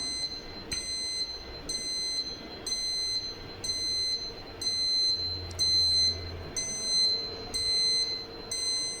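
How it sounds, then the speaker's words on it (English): A PLC-controlled alarm system beeps in a steady, evenly spaced pattern of short electronic tones, repeating around ten times, close and alone. "So if I press any 3 inputs, then the alarm sound is"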